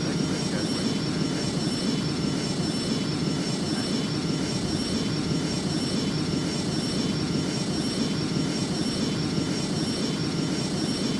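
An airplane engine in a flight video game roars steadily during takeoff, a continuous, loud broadband drone with a thin, constant whine riding on top and no change in intensity.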